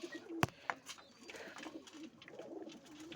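Pigeons coo softly in the background, a low murmuring call repeating over a busy ambient bed, with one sharp knock near the start.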